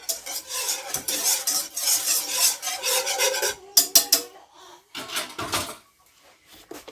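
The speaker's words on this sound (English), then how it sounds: "I'm gonna grab a rubber scraper here." A rubber scraper rasps and scrapes through garlic lemon butter sauce in a pan, with steady close scraping strokes that break into short separate scrapes toward the end.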